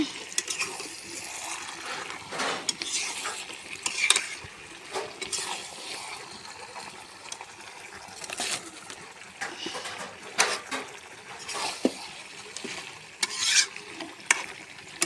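Chicken sautéing in a pot on a new clay wood-fired stove for a birthday meal: a soft, steady sizzle broken by frequent scraping and clanking stirs of a spatula against the pot, fairly quiet and close.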